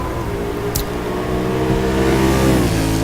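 A Mercedes race car in a racing video game holds a loud, buzzing engine drone that swells and climbs in pitch as it accelerates, with nothing else over it.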